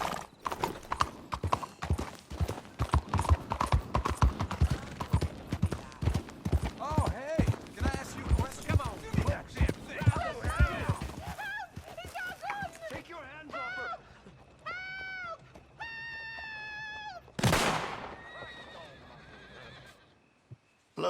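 Rapid hoofbeats of a horse in the video game Red Dead Redemption 2 clip-clop loudly for several seconds, then slow and fade as voices speak and a horse whinnies sharply near the end.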